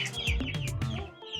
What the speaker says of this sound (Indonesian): Ini ayam Brahma.